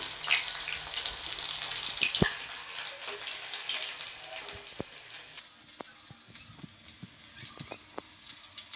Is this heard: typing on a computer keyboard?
no